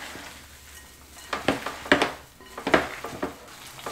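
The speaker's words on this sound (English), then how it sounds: "we're going to go ahead and mix this up with our hands just to get this incorporated" Raw meatloaf mixture with eggs squished and worked by hand in a bowl, giving soft wet squelches and light knocks against the bowl in an uneven rhythm, close and moderately loud.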